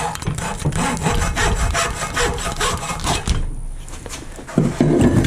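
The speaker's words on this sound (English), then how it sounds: "I want to cut off about 3/4 of an inch of dowel." A wooden dowel rod is hand-sawn with rapid back-and-forth strokes, a close, rasping rhythm that runs continuously with a brief pause near the end.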